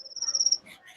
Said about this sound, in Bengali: এই ঝিঝি পোকা ডাকতেছে।